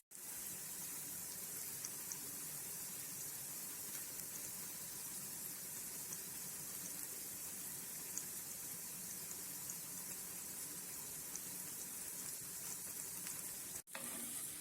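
Food sizzles steadily in a hot pan while pasta sauce is being made, a constant crackling hiss throughout, close by and with no talking.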